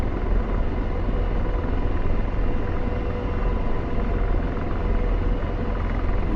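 Apache helicopter engine running up to power in the DCS combat flight game, a loud, steady whining rumble that fills the whole stretch without pause or speech.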